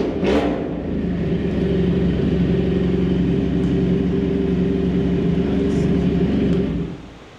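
A 400cc EFI superbike engine runs with a loud, steady, throaty drone held close for about seven seconds before cutting off, with no talk.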